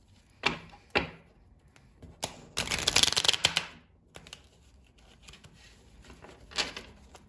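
Cards being shuffled close by: a couple of soft taps, then a quick riffling burst, followed by quieter handling sounds in a still room.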